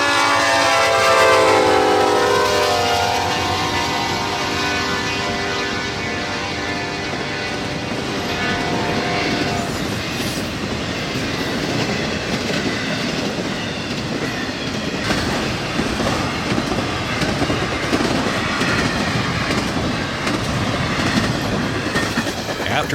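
Norfolk Southern freight train NS 209 rolls past in Lenox, Georgia, opening with a loud horn blast that fades into the continuous roar and clatter of railcars passing close by.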